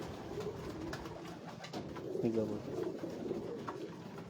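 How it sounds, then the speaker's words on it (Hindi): Pigeons coo softly on a Lahore rooftop, low throaty calls under faint background noise and a distant voice. "ये कबूतर देखें"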